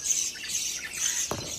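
Pet lovebirds at a home aviary chatter in a busy, high-pitched chirping, then one sharp squawk cuts through near the end, close and without any talking.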